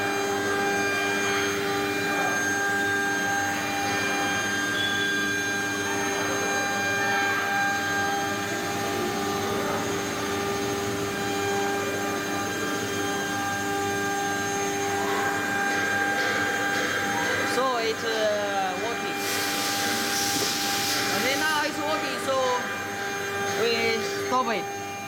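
A CNC baluster milling machine, model CC-MS3020K12, runs with a steady whirring drone and sustained tonal hum, near and continuous, with some faint shifts and knocks toward the end.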